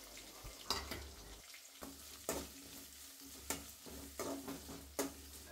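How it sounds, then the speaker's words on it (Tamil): Green chilies and long-sliced onion sautéing in a pan, a steady close sizzle broken by repeated sharp scrapes and clacks of a spoon stirring against the pan, with no one talking. "ஒரு பெரிய வெங்காயத்தை நீளமாக நறுக்கி வச்சுருக்கத அதையும் போட்டு நான் வதக்குறேங்க"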